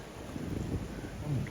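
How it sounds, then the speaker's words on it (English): Strong gusty wind on a hiking trail at Big South Fork buffets the microphone with low rumbling bursts for a brief moment, no voices present. "I didn't know the wind would get this bad"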